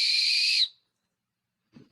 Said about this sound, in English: you gotta blow the whistle, make the call